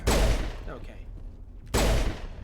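Two bursts of gunfire from the video game Mass Effect, loud and close, the first at the start and the second after a short pause, with faint game sounds in between.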